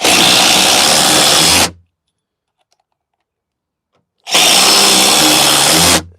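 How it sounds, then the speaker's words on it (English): Power drill removing and driving screws, with two loud, close bursts of whirring about two seconds each, separated by a silent pause. "The only way to do this is to take out all these old screws, put in the new ones."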